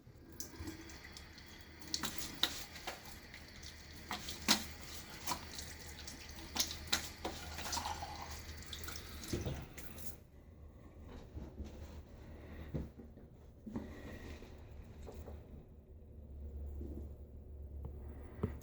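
Tap water runs steadily into a sink while rinsing after a wet shave, with clinks and splashes from handling, then the flow softens to a quieter, duller stream for the last stretch.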